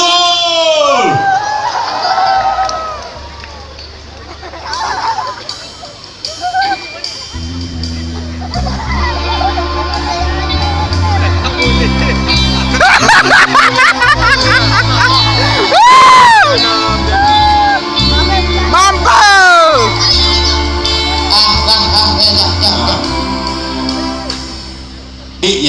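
A loud crowd at a 2016 Merdeka eve comedy show in Kota Tinggi cheers, whoops and claps for a comedian. The noise swells to a sustained roar over music, with shouting voices and some talk mixed in.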